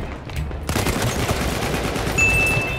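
Continuous heavy gunfire in the shooter game Battlefield 1, a dense rapid burst of automatic shots that starts abruptly and keeps rattling loudly and steadily to the end.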